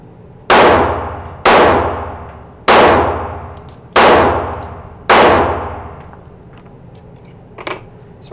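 Five sharp pistol shots from a Kimber SIS PRO 1911 ring out about one second apart, each loud report decaying with a ringing tail, then the range goes quiet.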